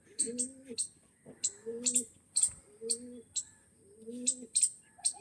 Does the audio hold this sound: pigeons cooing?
yes